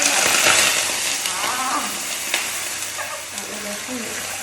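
Mustard seeds and curry leaves frying in hot coconut oil give a steady, close sizzling hiss with faint crackles and pops running through the whole stretch.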